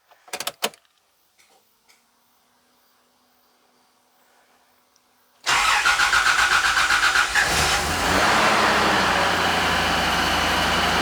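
A Toyota Land Cruiser with a 1FZ-FE engine starts after a fuel filter change: a few faint clicks and a long quiet stretch, then it abruptly catches and settles into a loud, steady idle.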